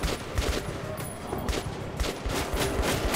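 Rapid gunfire from Metro Last Light aimed at shooting out a light, a string of sharp close shots about every half second, loud and punchy with little else around them.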